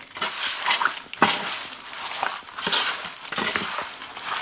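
Chicken wings mixed by gloved hand into a marinade: wet squelching and slapping in uneven bursts, close and moderately loud, with soft rustling between strokes.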